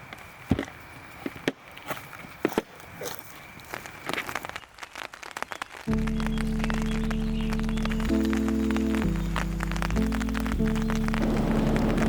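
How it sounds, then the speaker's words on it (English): Raindrops patter on a tent at a camp near Idaho hot springs, scattered irregular taps at close range for several seconds, then a steady droning musical tone takes over and masks them. "We woke up this morning to the sound of raindrops on our tent."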